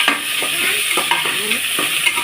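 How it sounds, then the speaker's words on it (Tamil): Onions and green chilies sautéing in a pan for chicken biryani, with a continuous close sizzle and repeated scraping stirs of a spatula against the pan at an uneven rhythm. "பச்சை மிளகாய் சேர்த்துருக்குறோம். வெங்காயம் சேர்த்து நல்லா வதக்கிக்கலாம்."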